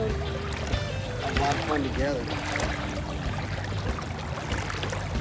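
Hobie Mirage Pro Angler 17T fishing kayak cruising at steady speed offshore, with continuous water rushing and splashing along the hull and wind, while someone talks over it.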